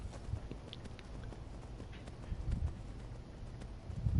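A horse gallops in Skyrim, its quick clip-clop hoofbeats drumming steadily and faintly under game ambience.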